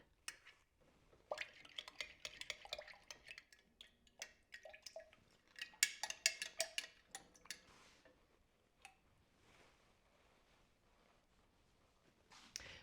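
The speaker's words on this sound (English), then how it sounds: "So I'm just going to sit here and stir this until it's all melted" Metal spoon stirring melting oils for a homemade hand salve in a pot, giving soft irregular clicks and scraping taps at close range with a faint liquid drip, busier early and thinning toward the end.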